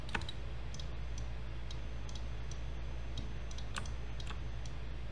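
A computer mouse clicks quietly and irregularly during 3D modeling, with light taps scattered across the stretch over a constant low hum.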